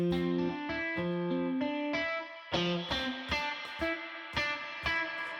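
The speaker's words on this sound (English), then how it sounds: "bring down the cross fader, and you'll hear that reverb open up" Synthesized tones from a CXM 1978 digital reverb ring out in repeated chords. Each trails into a washy, spacious tail that grows more open and echoing as the crossfader is brought down.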